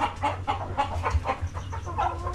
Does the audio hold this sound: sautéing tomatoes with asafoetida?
no